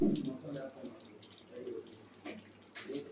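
About two litres of water poured into a cooking pot for country chicken curry, a close splashing gush in bursts, with a voice talking between pours.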